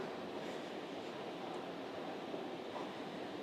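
Train pulling into a station during a journey from Singapore Changi toward Helsinki Airport, heard as a steady, broad rumble and rush of rolling wagons that holds close and even throughout, with no voices.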